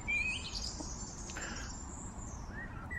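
Birds in early-summer woodland give thin, high chirps and short rising calls, one fairly near and others further off, over a quiet, breezy background.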